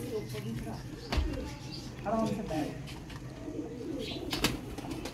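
An old Sialkoti pigeon coos softly in a few low, rolling calls, heard faintly beneath someone talking steadily throughout.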